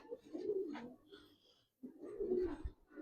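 Giribaz pigeons, an old breed, coo in two close, fairly loud bouts separated by a brief pause, with no talk.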